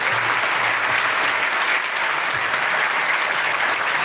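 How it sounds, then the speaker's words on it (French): An audience at a children's pilgrimage gathering claps steadily, a dense, even crowd applause sustained without a break. "Applaudissez."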